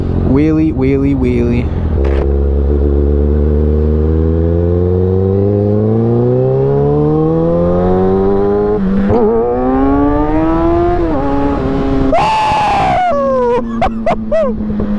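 A motorcycle engine revs hard and climbs steadily in pitch while the rider holds a wheelie, loud and close, dropping and rising again with a burst of wind noise near the end.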